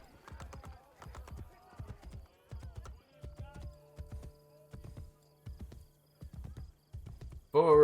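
Rhythmic hoofbeats of a war horse in Assassin's Creed Brotherhood clop in a steady galloping pattern, quiet and evenly spaced, with a faint tone in the background and a brief louder burst at the end.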